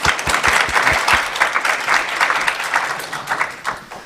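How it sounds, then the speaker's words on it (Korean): Audience applause at a talk on global etiquette hosted by a Korean ambassador: a room of people clapping steadily and fairly close, with a few sharp individual claps standing out early, then slowly thinning toward the end. "박수 한번 쳐주세요."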